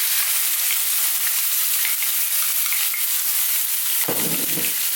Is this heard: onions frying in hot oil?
yes